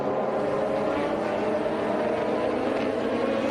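Radical race car engines at NOLA revving together as the field takes the rolling start, a steady dense mechanical drone that holds loud and even throughout with no clear breaks.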